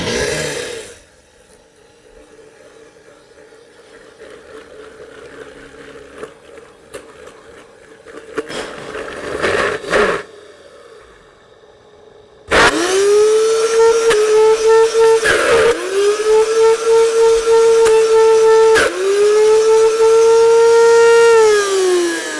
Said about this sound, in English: gel goes into the blender